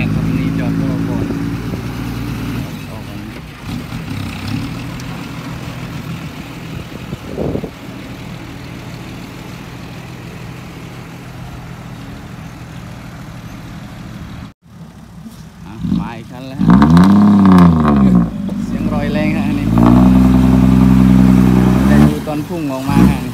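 A six-wheel dump truck's diesel engine idles and revs steadily while tipping a load of soil, a loud continuous rumble that swells near the end, with people talking over it.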